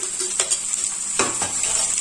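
Capsicum and green chillies sauté in a hot pan for vegetable rava upma, a steady sizzle broken by a few scraping stirs of a spoon against the pan.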